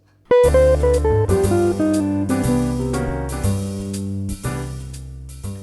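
A clean electric guitar plays a flowing melodic jazz line, notes moving freely with varied rhythm, played alone without talk.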